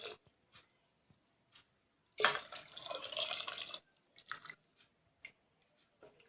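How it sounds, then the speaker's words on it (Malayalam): Water and soaked rice poured into a pot of milk while making paal payasam: a close splashing, trickling pour lasting about a second and a half, between faint kitchen clicks and knocks. "ഇനി ആ വെള്ളവും അരിയും കൂടി ഇട്ടിരിക്കുന്നത് ഇതിലേക്ക് നമുക്ക് ആഡ് ചെയ്ത് കൊടുക്കാം."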